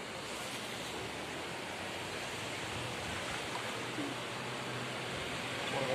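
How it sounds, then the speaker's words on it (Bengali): Waterfall pouring down near a roadside on the way to Pelling, a steady broadband rush of falling water that holds evenly throughout, with no talk over it. "ঝর্ণা ঝর্ণাটা এখান থেকে পড়ছে"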